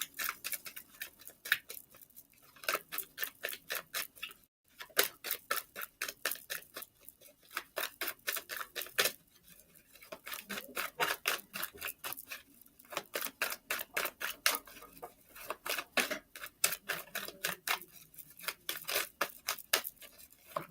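Tarot cards being shuffled in repeated rapid bursts of crisp riffling clicks, separated by short pauses, close and quiet with no talking.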